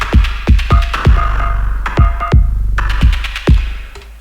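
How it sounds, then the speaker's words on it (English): Short electronic clap drum from an Elektron Monomachine, struck about eight times in a loose, syncopated pattern with long echoing tails, loud and close over a steady low throbbing hum. "Kind of hear this clap echoes out a lot more."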